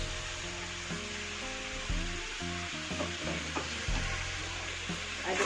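Spices for an Aceh-style goat curry fry and get stirred in a pan, a steady sizzle with repeated scraping strokes of a spoon against the metal, plus a low tonal hum running underneath throughout.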